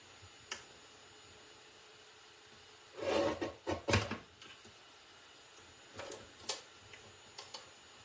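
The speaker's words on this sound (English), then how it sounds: "This is my teeny tiny cute handy dandy trimmer." A small paper trimmer cuts cards with a few quiet, close, short rasping slices and soft clicks in two brief clusters, separated by near silence.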